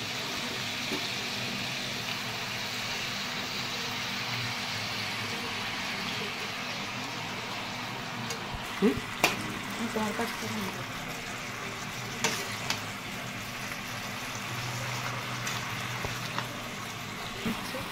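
Malabar spinach (pui shak) is stirred in a hot pan with a steady soft sizzle and hiss, broken by a few sharp scrapes and clinks of the spoon against the pan midway.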